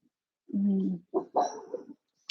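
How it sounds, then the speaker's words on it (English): A dog barks nearby in a home during a live stream, giving a few short, rough barks in quick succession with brief pauses between them, loud against a quiet room. "dog is barking"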